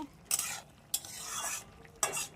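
A utensil stirs chicken with green chili in a hot pan, making three bursts of scraping and sizzling close by, separated by quieter frying, with no talking.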